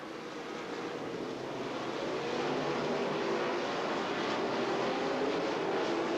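Super late model race cars roar around the high banks of Rome Speedway in Rome, Georgia: a continuous, dense engine drone that swells slightly as the pack comes through, with no voices over it.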